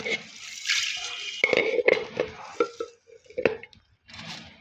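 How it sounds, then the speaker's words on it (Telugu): Water trickles and splashes into a pot of lentils in short bursts, with a few drips and light clinks of a utensil, close by. "పప్పులో కొద్దిగా వాటర్ పోసుకొని"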